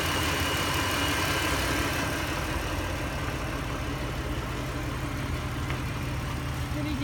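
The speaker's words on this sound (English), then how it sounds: "It's a 2008 Chrysler Sebring, 6-cylinder. Runs good." A 2008 Chrysler Sebring with a 6-cylinder engine idling smoothly and steadily, a constant low hum and vibration close by for the whole stretch.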